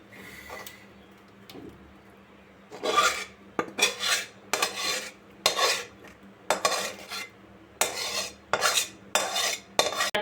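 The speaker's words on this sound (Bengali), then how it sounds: "চারিদিকে আমি খুন্তির সাহায্যে ছড়িয়ে দেব।" A spatula scrapes and spreads thick cream (malai) across a large plate, producing repeated rasping metal-on-plate strokes in a steady rhythm, close and fairly loud after a quieter start.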